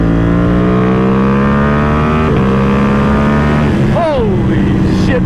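Ducati Panigale V2 V-twin motorcycle accelerating, a loud, close engine note rising steadily in pitch through the gear, then dropping abruptly at a shift before climbing again.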